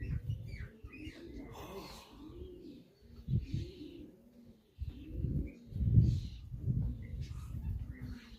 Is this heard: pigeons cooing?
yes